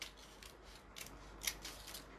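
Scissors snip through paper in a quick series of short crisp cuts, fairly faint and close, with no talking over them.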